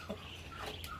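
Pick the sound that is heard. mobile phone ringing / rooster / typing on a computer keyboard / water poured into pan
rooster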